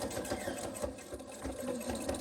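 Sewing machine stitching quilt binding, a steady close mechanical whirr with rapid needle clatter running continuously, with no talking.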